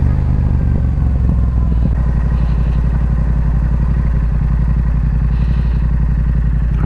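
A Yamaha R7 motorcycle with an aftermarket intake and ECU flash runs hard on a test run, a loud, continuous close engine drone that holds steady throughout without pause.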